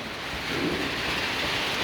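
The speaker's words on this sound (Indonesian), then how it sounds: "Ini sudah mulai gerimis di luar." Steady rain shower hisses on the slopes of Mount Merbabu, a broad even wash of drizzle close around with no voices, holding constant for the whole stretch.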